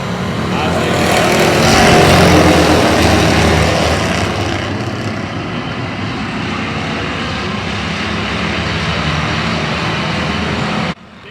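Street stock race cars roaring around Oyster Bed Speedway, a loud continuous engine drone that swells early then holds steady at a distance, with commentary over it.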